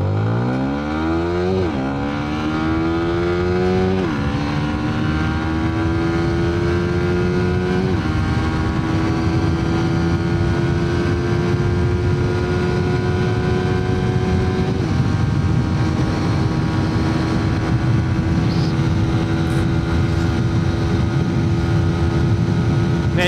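A Yamaha Sniper 155 VVA motorcycle engine revs hard through its gears at top speed, loud and close, with pitch climbing and dropping at each shift, then droning steadily high in fifth gear.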